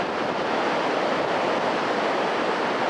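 Ocean surf on the Oregon coast with the tide coming in, a loud continuous roar of breaking waves close by, mixed with wind rumble on the microphone, no voices.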